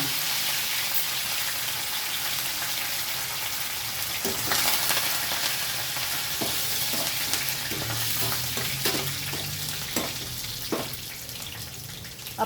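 Tempering spices for dal splutter and crackle in hot oil in a home kitchen, a steady loud sizzle with scattered sharp pops and some stirring, no talk.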